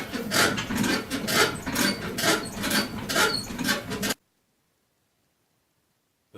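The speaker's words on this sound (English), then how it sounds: "if you look down here where the linkage are, it's moving from side to side and it's making a lot of noise" The loose linkage of a Horizon Club Series CSE3 elliptical trainer squeaks and rubs in a steady, repeating rasp with each stroke, fairly loud and close, then stops abruptly into silence.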